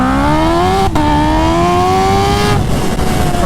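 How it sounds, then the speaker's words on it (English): A Kawasaki Ninja H2R supercharged motorcycle accelerates hard in first gear, a loud close engine scream whose pitch climbs steadily, breaking briefly at two gear-like dips, with no one speaking. "It just ripped the tire off in first gear."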